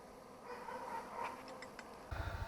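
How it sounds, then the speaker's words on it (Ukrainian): A honeybee swarm settling into a white hive at an apiary, a faint continuous buzzing hum of many bees heard at a distance, with a brief low rumble near the end. "Ще один рій, ще одна сім'я на моїй пасіці все, заселяються"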